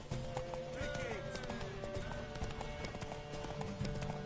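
Rapid clip-clop of horse hooves in a steady galloping rhythm in The Witcher 3 video game, with voices talking over it and a busy background.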